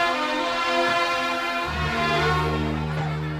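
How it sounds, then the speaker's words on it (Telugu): A passenger train pulls out of a railway station, its steady horn-like tones sounding loud and close, with a deep rumble building in partway through. No one speaks. "పదండి, ట్రైన్ వెళ్ళిపోతుంది."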